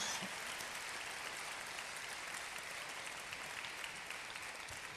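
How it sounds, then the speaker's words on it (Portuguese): Church congregation applauding together, a dense, steady wash of clapping from many hands that holds evenly throughout at moderate, slightly distant level, with no voices standing out. "pode bater palmas"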